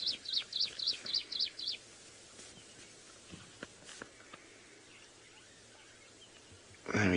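A Stierling's wren-warbler gives a quick series of about eight high, sharp repeated notes on an African safari morning, fairly clear at first, followed by quiet bush ambience and faint scattered clicks.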